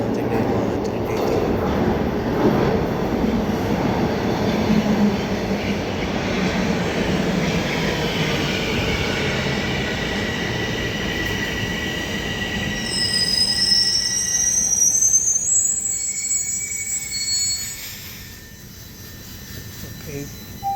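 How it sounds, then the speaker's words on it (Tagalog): A Line 1 subway train pulls into an underground station at Yonge and Steeles, its wheels squealing in high, rising tones over a steady rumble that fades as it slows, with a voice briefly heard. "So, nandito na yung train guys."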